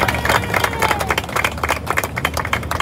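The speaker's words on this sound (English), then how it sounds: "Heather Hutt, give her a big round of applause." An audience applauds at a city council event, dense, continuous clapping from many hands filling the space, fairly loud and steady throughout.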